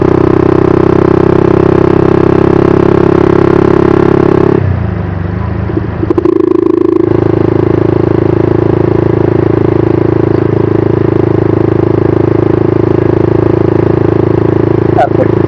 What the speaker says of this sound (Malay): So saya buat video mana-mana motor yang ada je.